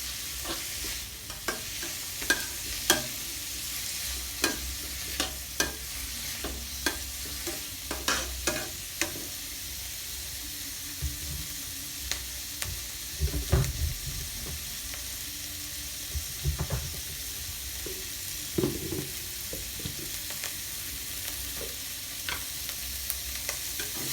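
Pickled mustard greens with egg being stir-fried in a hot pan, a steady sizzle broken by frequent sharp scrapes and clacks of the spatula stirring, close and continuous with no voices.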